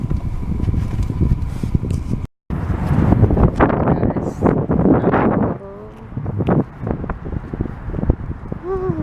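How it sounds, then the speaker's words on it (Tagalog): Strong wind buffets the microphone outside a CVS pharmacy on a warm morning, coming as rough, low rumbling gusts that are loud in some stretches and ease in others, with a person talking throughout. "Grabing hangin."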